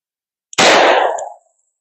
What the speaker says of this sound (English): I think I can still shoot my plate there.